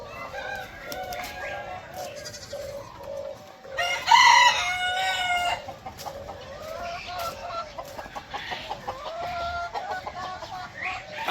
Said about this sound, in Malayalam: ഒരുപാട് വെറൈറ്റി ആടുകളും കോഴികളും ആയിട്ടുള്ള ഒരു ഫാമാണ്